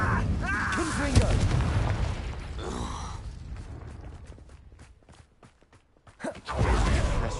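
Fire spells Incendio and Confringo cast in a Harry Potter video game, a couple of whooshing bursts up front, loud and close, with game sounds and a voice around them.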